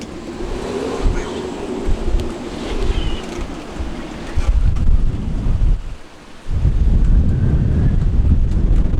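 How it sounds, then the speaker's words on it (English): Strong wind buffets the microphone outdoors by a moored boat, a loud continuous low roar with gusts that swell and briefly drop away near the sixth second before surging back. "It's very windy outside"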